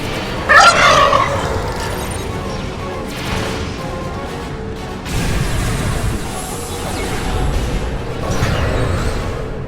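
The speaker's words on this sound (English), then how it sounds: "Calling some turkeys." Turkeys gobble in the Star Trek Online game, a loud burst of calls near the start followed by softer bursts, set against a busy mechanical background of game noise.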